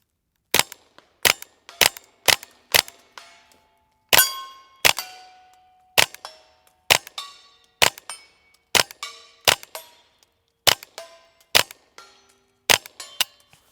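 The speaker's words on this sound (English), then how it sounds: "Let's do some shooting. I'm just shooting some regular CCI standard velocity ammunition." A Ruger Charger pistol fires CCI standard velocity ammunition at targets 100 yards out, about seventeen sharp, loud cracks in an uneven string with short pauses between groups of shots.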